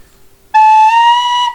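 A tin whistle sounds one sustained, bright, clear note with slight pitch inflection, starting abruptly after a quiet moment and holding for about a second, close and loud with no talking.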